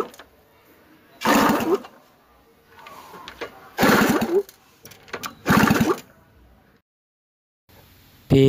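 A Yamaha Mate Y80 motorcycle with a faulty spark plug is cranked in three short, loud bursts separated by silence, none catching into a steady idle.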